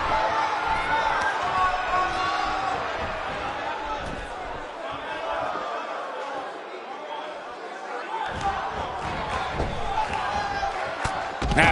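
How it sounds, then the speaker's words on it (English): A virtual arena crowd in the WWE 2K18 wrestling game roars and chatters continuously through a match, a dense, loud wall of cheering that holds steady throughout. "The crowd absolutely loves Rob Van Dam."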